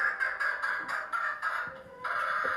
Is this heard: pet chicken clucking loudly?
yes